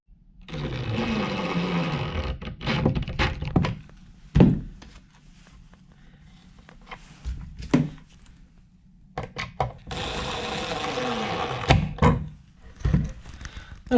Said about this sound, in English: And we'll put the screws in.